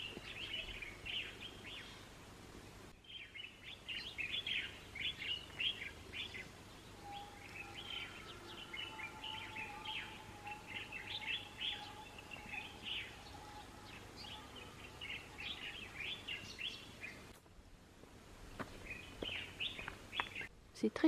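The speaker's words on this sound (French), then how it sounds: "C'est très calme, plein d'oiseaux." Many birds sing and chirp continuously in a calm Moroccan valley, bright trilling calls overlapping at moderate distance with a quiet, still background.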